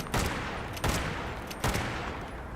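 Three loud, close bursts of video game gunfire in the Skyline Valley questline, each a sharp crack with a trailing rumble, spaced under a second apart.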